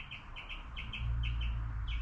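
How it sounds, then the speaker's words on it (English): Small birds chirp outdoors in a series of short, bright tweets repeated at an irregular rhythm, fairly faint and a little distant over a low steady rumble. "You hear the birds chirping?"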